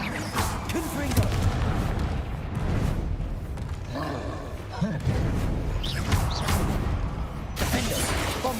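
Repeated Confringo fire spells blast in Hogwarts Legacy, a series of booming, crackling impacts in quick succession under a player's voice that shouts between them.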